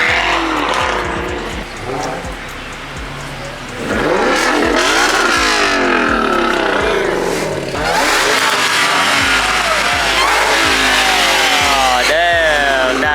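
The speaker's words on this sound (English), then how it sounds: "The Ferrari 488's pulling out, and also the Porsche GT3" A Ferrari 488 and a Porsche GT3 pull out at a cars and coffee meet, revving hard in loud rising and falling bursts close by, with overlapping engine notes.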